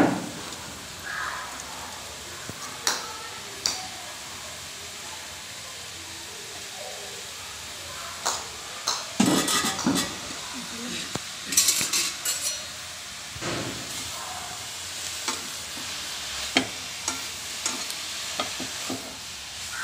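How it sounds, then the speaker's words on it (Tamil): Podi ingredients are sautéed in a pan on a low flame, with a soft continuous sizzle and scattered stirring scrapes and taps against the pan. No one speaks. "சிம்மில் வச்சு வதக்கிக்கோங்க."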